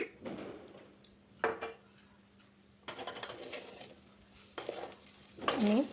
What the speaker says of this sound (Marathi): आणि तांदूळ पुन्हा परतून घेऊया